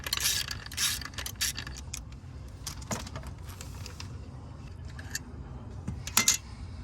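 Bolts holding a power window motor in a 2003–2009 Hummer are worked loose with hand tools, producing faint, intermittent metallic clicks, ratcheting and small clinks in a quiet space.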